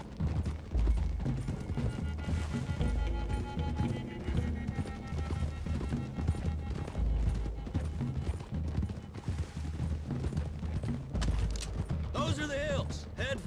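Horses galloping in Red Dead Redemption 2, rapid hoofbeats running continuously under game music and brief character dialogue, with a horse whinny near the end.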